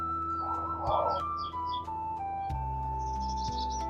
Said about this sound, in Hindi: बाकी चिड़ियों की चहचहाट।